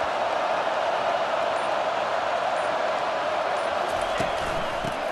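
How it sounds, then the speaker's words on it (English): A huge stadium crowd roars without pause during a football video game, Vanderbilt at Georgia, a dense, loud, unbroken wash of cheering with faint thuds near the end. "this big crowd doing everything possible to inspire this defense down here near the goal line"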